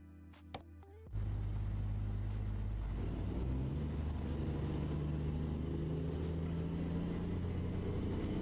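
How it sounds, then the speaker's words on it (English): A truck engine in Euro Truck Simulator 2 starts with a sudden loud rumble after a second of quiet, then settles into a steady, heavy low drone that runs unbroken to the end. "How about now, like when I'm trying to talk over the truck?"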